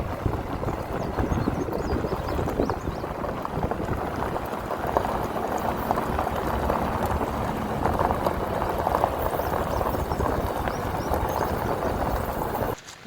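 Rainwater draining through a culvert under a mile-long driveway after about six inches of rain, a steady broadband rushing and gurgling of water that runs unbroken and fairly loud throughout.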